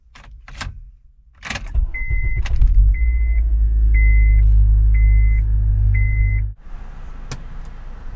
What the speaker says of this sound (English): Let's just get into this car and take it for its last drive before I sell it.